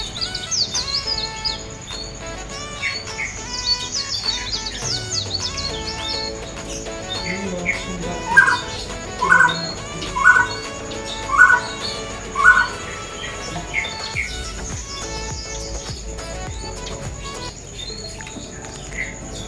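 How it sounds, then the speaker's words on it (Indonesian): Caged birds chirp and sing on a cool morning after rain, with a run of five evenly spaced loud calls midway over a constant bed of twittering and light background patter. "sambil dengerin suara burung"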